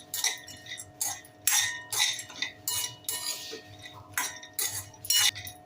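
Metal spoon clinking and scraping against a pan in steady bursts while peanut chutney ingredients are stirred and sautéed in oil, close and clear with no talk.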